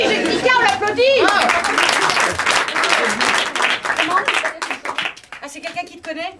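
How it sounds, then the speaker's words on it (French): An audience at an improv festival in Paris claps for a performer, with loud clapping at first that fades into mixed chatter and voices, including a child's. "on l'applaudit"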